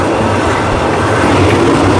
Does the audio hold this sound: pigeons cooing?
no